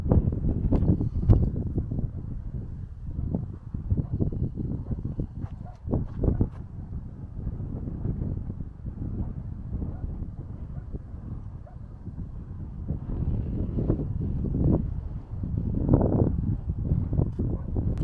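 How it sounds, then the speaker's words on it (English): Gusty wind on a high mountain campsite buffets the microphone with a loud, low rumbling roar that rises and falls irregularly throughout, with no speech. "It's starting to get a little bit windy too"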